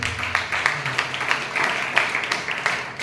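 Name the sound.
congregation clapping loudly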